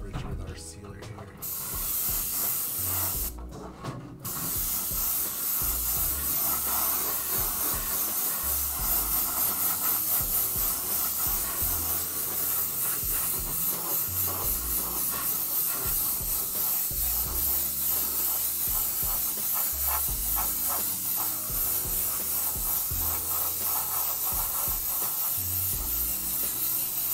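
Airbrush spraying white Createx sealer onto the outside of an RC car body, a steady close hiss that runs nearly unbroken, with brief pauses near the start as the trigger is released.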